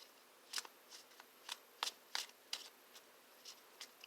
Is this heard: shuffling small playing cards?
yes